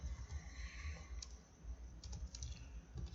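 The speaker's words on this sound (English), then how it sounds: "Okay, so I can type something inside now. I'm gonna type more front lawn" Computer keyboard typing, quiet and close, with irregular soft key clicks in short bursts over a low background rumble.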